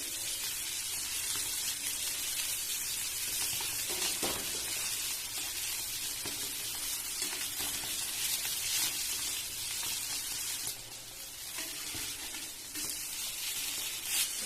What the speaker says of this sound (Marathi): दोन 3 मिनिटं झाल्यानंतर मच्छी मी उलटी परत परतून घेते.